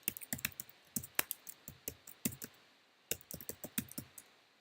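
Keys on a computer keyboard are tapped in quick, close bursts with a short pause in the middle, as a PIN is typed at a desk.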